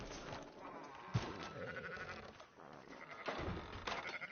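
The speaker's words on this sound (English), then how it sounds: "Fine sheep." Sheep in the video game Red Dead Redemption 2 bleat several times close by, the wavering calls overlapping amid low background game sounds.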